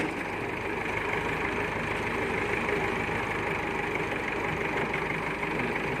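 An older heavy tractor engine idles steadily with a low, rough, continuous rumble, unchanging throughout.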